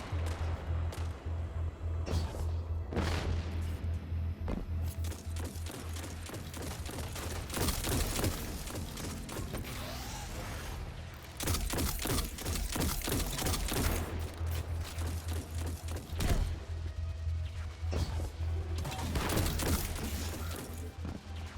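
Rapid gunfire from Destiny 2 in a Grandmaster Nightfall run of The Inverted Spire, bursts of shots cracking out repeatedly at close range over a steady low game hum, with clusters of impacts and explosions between pauses.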